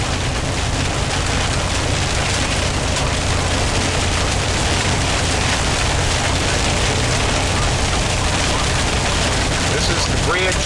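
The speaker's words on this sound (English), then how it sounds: "Getting a little bit of hail now mixed in with the rain." Heavy rain mixed with hail pours down steadily during a tornado chase near Gainesville, Texas, a dense, constant roar of drumming with no breaks from start to finish.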